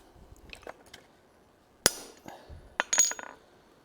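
Hammer blows land on the rivet of a pair of forging tongs: a few sharp, isolated metallic strikes and clinks spaced irregularly over a quiet background.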